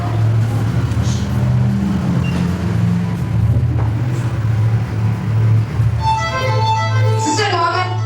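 Vehicle engine rumbling steadily close by as it drives up, a low continuous drone that holds throughout, with a higher tonal chatter or voices entering near the end.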